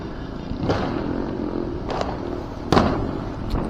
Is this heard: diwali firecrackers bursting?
yes